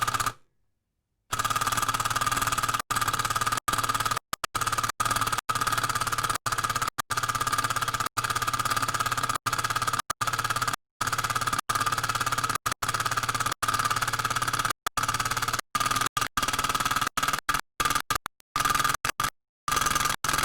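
Dewalt 12V Xtreme impact driver driving a screw, a rapid rattling hammer of impacts in repeated bursts with short pauses between trigger pulls, loud and close throughout.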